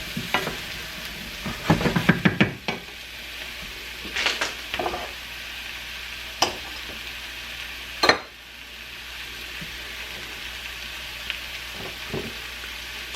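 Mushrooms fry in butter in a pan, giving a steady crackling sizzle with scattered sharp pops and spatters, close and fairly loud, with no one talking.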